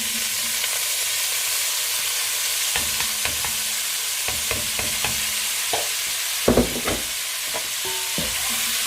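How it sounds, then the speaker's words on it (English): Chopped carrot and onion frying in a pan for beef bourguignon, a steady low sizzle with occasional stirring scrapes and clacks throughout, no talk. "the carrot and the onion we separated earlier, we're now going to fry for a few minutes just to soften them up"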